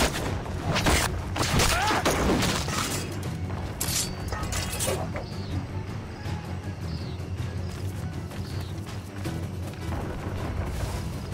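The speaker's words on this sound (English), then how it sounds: "Is that a ship mortar? That's not sporting!" In an Assassin's Creed Rogue naval battle, a ship mortar fires several loud, booming volleys in the first few seconds, followed by a continuous rumbling, creaking ambience.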